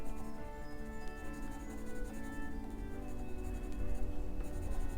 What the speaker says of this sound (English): Now pick up my pencil again and get back to coloring this right here